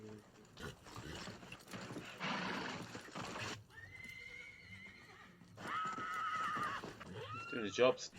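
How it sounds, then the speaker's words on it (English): Wild horses neigh and whinny loudly several times, with hooves clopping and some voices mixed in the background, from the 1989 western miniseries Lonesome Dove. "Wild horses."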